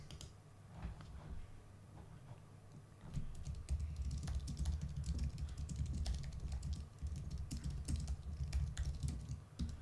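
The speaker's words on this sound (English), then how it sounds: "That's what the typing is." Fast, steady clatter of computer keyboard typing up close during a live stream, with dense rapid key clicks running throughout and no speech.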